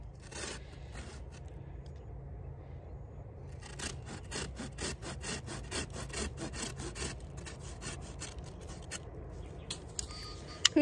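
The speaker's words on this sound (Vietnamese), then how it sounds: "Mình không có dùng cái kéo mình cắt mà dùng cái cưa nha." A hand saw works through a custard apple tree branch in a garden, starting after a few quiet seconds and then rasping in quick, steady back-and-forth strokes, close but fairly soft.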